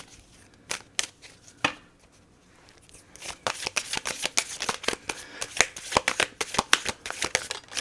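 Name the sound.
shuffling tarot cards, a card flying out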